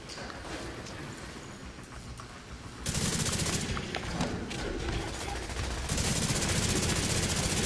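Rapid automatic gunfire bursts from The Division 2 video game, loud and dense, jumping in sharply partway through and continuing in sustained volleys near the end.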